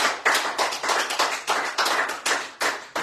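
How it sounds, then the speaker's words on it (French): A church congregation claps together in a loud, steady rhythm, each beat a sharp unified slap landing about three times a second with brief decays between. "Applaudissons le roi des rois"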